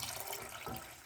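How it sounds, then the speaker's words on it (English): Tap water runs steadily into a can, a soft hissing splash of liquid filling it, quiet and close, with no speech. "I just filled up the can with water"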